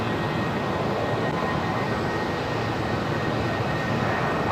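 A Jetstar A320 jet rolls for takeoff down runway 01 right at Brisbane Airport at night, a steady broad engine roar filling the air at a distance, constant and unbroken.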